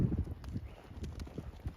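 Hooves of a ridden horse moving in a small training circle, a steady soft clip-clop rhythm on ground under faint background noise, no speech.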